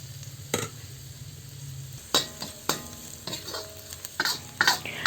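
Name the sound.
sautéing onion and garlic in a pan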